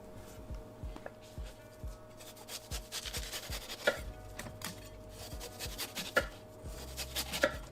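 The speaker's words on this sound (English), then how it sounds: "Let's start off by slicing our watermelon into blendable pieces." A knife cuts through a watermelon on a board, giving a string of soft, close thuds and rubbing, crunchy scrapes in an uneven rhythm, with no talking.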